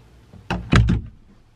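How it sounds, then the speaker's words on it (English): A closet door is pushed shut indoors, a short close sequence of a soft slide followed by two quick solid thumps as it closes and latches, then quiet. "now I'm gonna shut the door of my closet and see."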